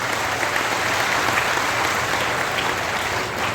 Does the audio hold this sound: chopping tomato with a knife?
no